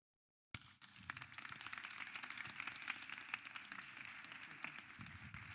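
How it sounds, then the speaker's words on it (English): Applause from a conference audience starts abruptly after a moment of silence and carries on as steady, dense clapping from a sizable crowd. It sounds somewhat distant and even throughout. "Big round of applause."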